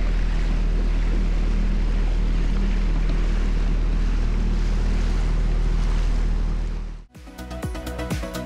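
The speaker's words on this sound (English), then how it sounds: "What a very nice marina." Steady broadband wash of wind and water around moored boats in a Turkish marina, loud and continuous, cutting off abruptly near the end into a quieter, clicking background.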